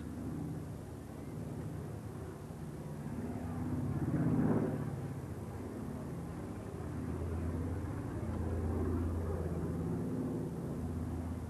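A Consolidated PBY-5A Catalina flying boat flies past in the distance, its piston engines a low, steady droning rumble that swells to a peak and then eases back, heard alone without talk.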